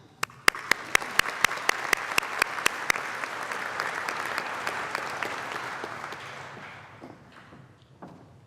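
A crowd applauds to welcome a speaker at a business graduation ceremony: sharp individual claps ring out first, then a dense, steady wash of clapping builds and fades away over several seconds.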